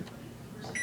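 Control panel buttons pressed on a microwave oven in a kitchen, giving a short, faint electronic beep near the end over a low background hum.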